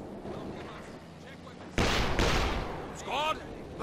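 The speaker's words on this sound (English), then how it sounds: "Probing barrage commencing." Artillery from a probing barrage in the Company of Heroes 2 video game, a burst of booming blasts that jumps up in loudness midway and stays fairly loud, with a short whistling sweep near the end.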